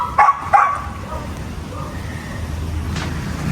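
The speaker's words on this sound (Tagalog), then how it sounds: "Ito namang asong to" A dog gives two short, sharp barks up close, then the scene settles into quiet background noise.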